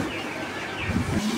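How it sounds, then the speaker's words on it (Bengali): Pigeons cooing softly amid the steady hum of a pigeon farm in Bangladesh, low throaty coos swelling toward the end over constant background noise. "কবুতরগুলো দেখেন।"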